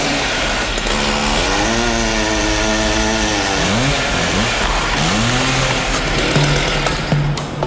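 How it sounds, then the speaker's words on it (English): A loud chainsaw engine revs and whines continuously as it cuts a huge tree trunk into drum-sized chunks for taiko drums, pitch rising and falling as it bites and eases, with a steady low mechanical rumble throughout. "the titanic trunk is cut into drum-sized chunks with a chainsaw."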